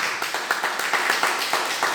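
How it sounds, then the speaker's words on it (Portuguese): A church congregation claps for Jesus during a worship gathering, with a moderately loud stream of hand claps and distinct sharper claps standing out at fairly regular intervals. "Dá uma salva de palmas para Jesus"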